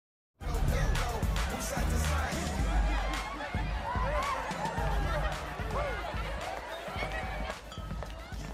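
Crowd chatter and scattered laughter from a party in the video game Saints Row the Third, a steady, fairly quiet murmur of many voices.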